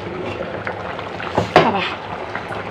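A lid clanks down onto a cooking pot of hilsa fish and eggplant, one sharp metallic knock amid soft kitchen bubbling and handling noise.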